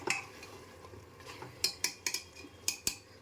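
Green chilli keema stirred in a pan, a quiet sizzle broken by a series of sharp metallic clinks and scrapes of a spoon against the pan, close and irregular, no voices.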